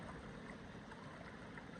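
The Fife Brook stretch of the Deerfield River flows with a steady, faint rushing and trickling murmur that holds even through the short stretch, with no voices.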